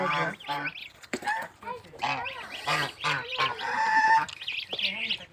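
Goslings and geese call in a rapid run of honks and peeping cries, close by and fairly loud, with a little background noise.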